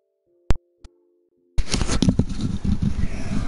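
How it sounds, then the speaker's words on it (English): A home shower runs as a loud, steady hiss of spraying water. It starts abruptly after two brief clicks and continues without a break to the end. "just my dad taking a shower,"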